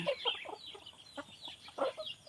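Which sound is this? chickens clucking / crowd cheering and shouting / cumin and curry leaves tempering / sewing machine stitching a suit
chickens clucking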